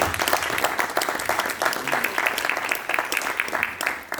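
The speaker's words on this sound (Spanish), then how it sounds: "Fuerte aplauso para él." Sustained applause from a church congregation during an evening sermon on marriage, dense steady clapping filling the room for several seconds at a fairly even level.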